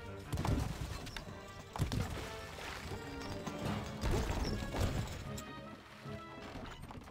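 A horse gallops in the medieval strategy game Stronghold: Crusader, with hoofbeats striking in quick rhythmic bursts over a busy battle and castle soundscape.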